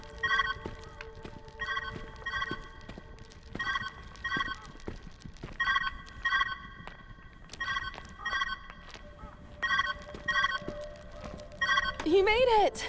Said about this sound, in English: Where's that ringing coming from?